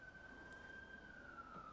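A real-world emergency siren drifts in from outside while a Hitman 3 VR session plays: a faint, distant sustained wail held on one steady pitch that sags slightly near the end, over a low background hum, with no talk.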